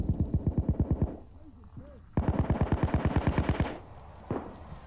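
Automatic gunfire in the heist game Payday 2, fired in two close, loud rapid bursts separated by a short pause, then a single shot.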